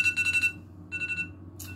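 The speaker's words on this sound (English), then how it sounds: "There's our timer." A timer alarm goes off in two bursts of rapid high-pitched beeping separated by a short pause, with a further brief beep right at the end, heard indoors with no talking.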